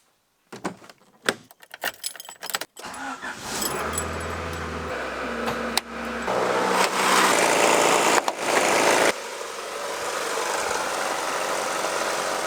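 Keys jangle and click before a Ford EF wagon, right-hand drive, cranks and fires, then settles into a steady close idle with a faint rhythmic slop from a loose timing belt, and the revs shift briefly midway.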